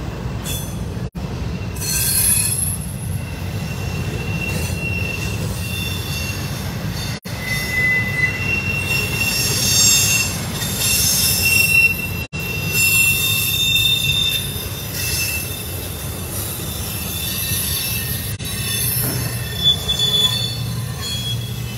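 A long CSX freight train rolls steadily past with shrill, sustained wheel squeals riding over a heavy rumble, loud and close throughout.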